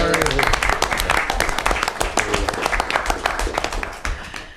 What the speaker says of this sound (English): Don't we usually clap after we pass the budget?